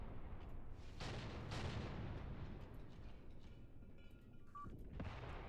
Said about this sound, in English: Okay, these are artillery pieces.